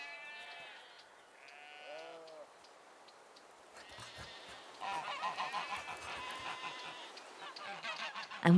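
Geese honk in a noisy, overlapping chorus that builds louder midway, preceded by a few wavering bleats.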